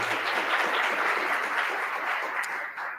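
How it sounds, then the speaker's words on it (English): An audience claps for the speakers at a forum on electric, autonomous and green personal transportation, a dense, steady round of applause lasting the whole short stretch and tapering slightly at the end. "Let's give them a round of applause for their joining us here today."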